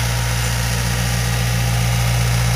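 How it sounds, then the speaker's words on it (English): A tractor carrying a hay bale idles close by on a horse farm, a loud, steady low engine rumble with constant vibration and no pauses throughout. "here comes the tractor with the bale on it."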